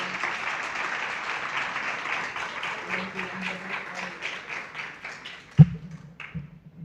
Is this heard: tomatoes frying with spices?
no